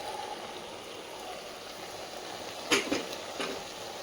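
Cooked toor dal with tomato is poured into simmering vegetables for Pongal kulambu, a soft wet splashing and bubbling over steady simmering hiss, with a brief clink of a pot near the end.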